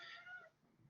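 A pet cat meowing indoors, a single short, fairly faint meow near the microphone, followed by a brief bump.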